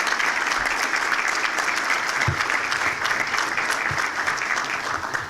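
Audience at a chamber of commerce breakfast applauding sponsors, loud steady clapping from a roomful of people, sustained without talk over it.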